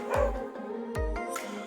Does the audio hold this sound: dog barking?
yes